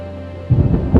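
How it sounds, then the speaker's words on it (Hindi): Heavy cartoon rainfall with thunder: a low rumbling roll breaks in halfway through after a steady hiss of rain, swelling twice and staying loud to the end, with no voices. "देखते ही देखते जोरदार बारिश शुरू हो जाती है"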